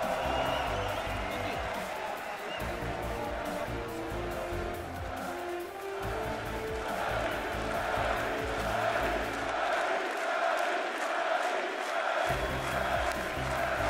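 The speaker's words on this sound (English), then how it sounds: "There is a standing ovation in the hall. Everyone chanting his name." A large crowd gives a standing ovation and chants a name in an esports hall at a League of Legends third-place playoff match, a loud continuous roar with rhythmic pulses and commentators talking over it.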